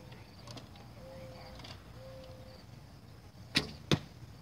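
Arrow loosed from a bow in a backyard, a faint string twang followed by two sharp, close thwacks as it strikes the target, over quiet outdoor ambience with insects.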